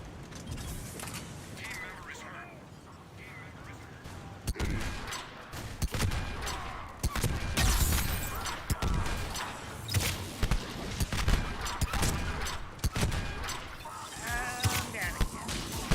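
Weapons fire in Mass Effect 3 multiplayer comes in bursts of rapid gunshots, sparse at first and then denser and louder, with people talking between and over the shots.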